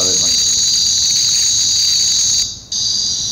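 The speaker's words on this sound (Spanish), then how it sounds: "se van algunos de los grillos, más bien no es que se van, sino que los que estaban ahí alrededor dejan de cantar y cantan otros" Crickets chirp before dawn in a steady, continuous high-pitched chorus that fills the whole stretch, dropping out briefly near the end and then resuming, with faint low background noise beneath.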